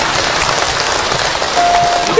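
A religious lecture audience claps steadily and densely for about two seconds, with the sound of the crowd filling the room and a faint tone underneath.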